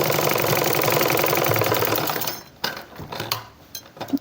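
A sewing machine runs in a fast, steady mechanical whir while stitching a strip onto a women's cord set shirt, stopping after about two seconds and giving way to soft handling knocks and rustles.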